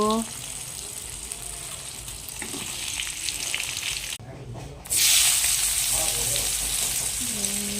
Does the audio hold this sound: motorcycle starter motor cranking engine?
no